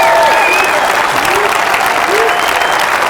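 Loud, sustained applause from a conference audience at a tech summit, with cheering and whistles rising over it, running steadily for about three seconds.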